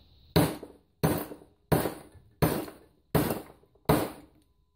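A hammer striking copper plugs taken from heat sinks: six sharp metallic blows at a steady, unhurried pace, each ringing briefly before fading, close and loud with no talking.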